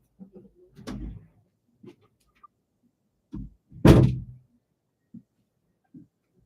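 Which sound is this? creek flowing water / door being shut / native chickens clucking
door being shut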